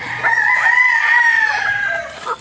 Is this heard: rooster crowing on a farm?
yes